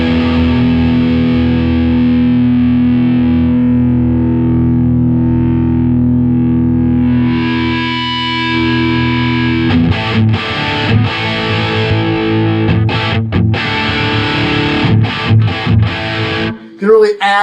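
Electric guitar played through an HOD Orange Two-Stroke boost and EQ pedal, starting with long sustained distorted chords, then shifting to choppy, punchy strummed chords with brief gaps, loud and close.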